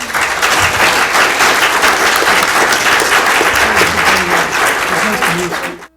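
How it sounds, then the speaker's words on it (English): Loud, sustained audience applause at the close of a candidates forum in Newberg, dense clapping from a full room holding steady for about six seconds before cutting off abruptly. "give one more round of applause to all of us."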